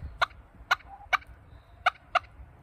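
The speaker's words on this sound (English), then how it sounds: "the turkeys are going to go check out everything out there, I guess." Turkeys gobble outdoors in five short, sharp bursts spaced irregularly across a couple of seconds, fairly close and standing out over a low background rumble, with no talking.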